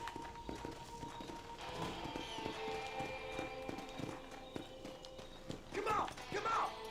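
Horse hooves clip-clopping in Red Dead Redemption on Xbox One, a quick, steady trot of soft thuds under ambient game sound, with a short neigh or voice near the end.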